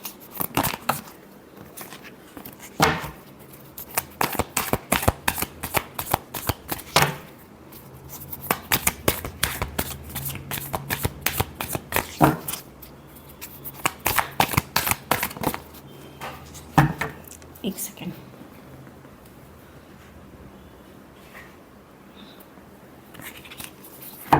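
Tarot cards are shuffled close by in repeated bursts of quick riffling flicks and crisp card snaps, pausing between rounds, with the voice silent throughout.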